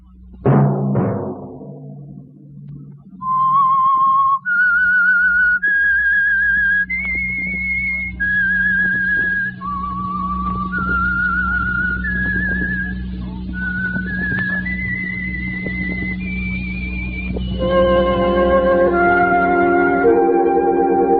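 A melodic whistled tune with an echoing, reverberant quality plays over a low sustained drone, the notes stepping up and down before other tones join.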